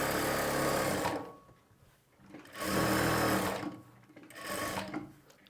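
A sewing machine stitches lining around the edge of main fabric in three bursts, each running for about a second or two, with quieter gaps between them.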